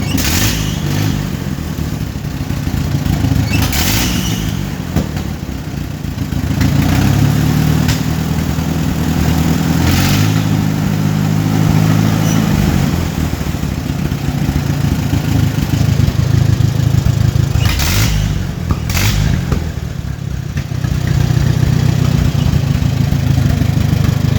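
Allis Chalmers WD45 tractor engine running steadily and loudly for the whole stretch, with a low chugging drone and a few sharp pops that sound like backfires.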